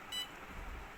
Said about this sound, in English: the alarm will on and the buzzer will start burst for every second